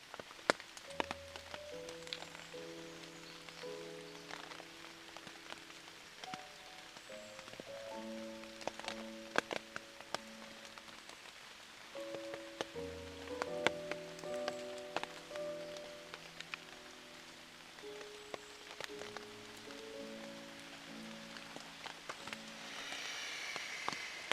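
Steady rain patters continuously outdoors at a British military urban warfare training village, with scattered sharp drops, while soft sustained musical tones play underneath throughout.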